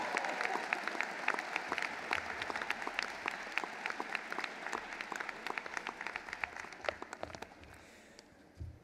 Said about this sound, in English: How about a special round of applause for these graduates